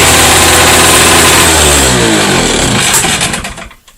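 A Volvo Penta Model 39 sail outboard engine runs loud and close just after starting, a dense steady rumble whose pitch shifts before cutting off and fading out.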